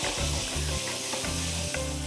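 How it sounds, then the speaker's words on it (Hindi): Chopped onions fry in melted ghee for a Gosht Kabab Pulav, giving a steady, close sizzle that runs without a break through the whole moment, overlaid by a low hum and a few light clinks. "जैसे ही घी पिघल जाएगा तो हम इसमें डाल देंगे प्याज"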